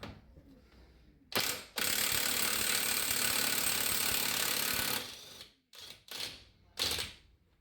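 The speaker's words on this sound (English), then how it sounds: "Alright, blasting the next axle nut off." Impact tool blasting an axle nut off a diesel Corolla 2CT, a brief rattle followed by a long loud hammering burst, then several short ratcheting bursts in a garage.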